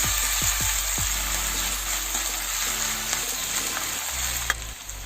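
Onions with ginger and garlic frying in a pan, a loud steady sizzle beneath a hum, with a few thuds and knocks near the start and a sharp clack near the end.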